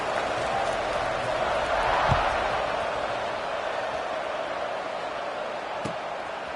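Stadium crowd noise before kickoff at a USC versus Oregon college football game, a steady distant roar with a couple of brief sharp thuds, partly under a voice.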